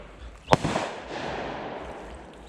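A single sharp crack of fireworks or an M80-type firecracker set off from an island across open water, distant and brief, followed by a faint rolling echo.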